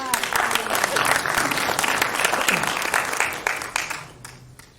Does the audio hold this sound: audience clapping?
yes